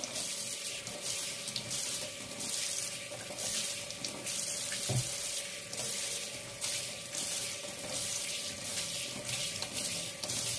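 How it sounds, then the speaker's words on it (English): Tap water runs steadily from a faucet over crystals held together in a basket, a continuous splashing hiss at close range with no talking. "keep them together like this and run them through water"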